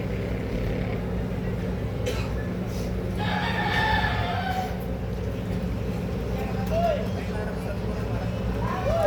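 A rooster crows in the Philippines, a drawn-out call rising over a steady rumble of outdoor background noise, with another brief crow toward the end.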